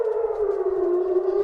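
Civil defense air raid siren in Israel wailing as a single sustained tone that slowly drifts lower, loud and close, with no talk over it.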